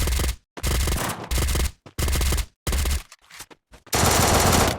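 Automatic gunfire from a shooting video game rattles in several loud, close bursts separated by short silences, ending in a longer sustained burst.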